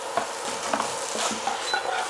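Chilli beef mince sizzling and popping in a hot pan while being stirred, with a steady frying hiss and soft repeated scraping strokes close by, no talking.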